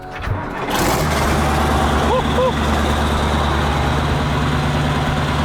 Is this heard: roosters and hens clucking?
no